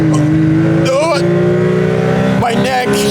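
A Honda Beat engine revs hard at full throttle, a loud, steady, whining drone that holds close and constant, with voices speaking over it.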